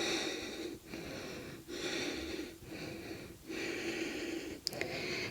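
Steady audible breathing during a dynamic yoga session, with long sustained inhales and exhales separated by short pauses, close and fairly quiet, with no talking.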